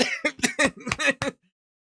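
One person coughs in a rapid fit of about six harsh, close bursts, the last fading into silence.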